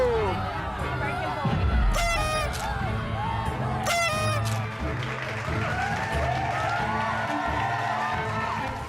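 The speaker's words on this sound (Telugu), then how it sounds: "గట్టిగా కొట్టండి చప్పట్లు" A studio audience on a Telugu TV game show claps and cheers in a dense, continuous wash, mixed with loud voices and music that partly mask the applause.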